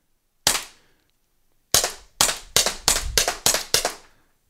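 Umarex T4E Walther PPQ pepperball launcher firing at a box: one sharp pop, a pause, then six quick cracks in a fairly even rhythm, close and loud with silence between.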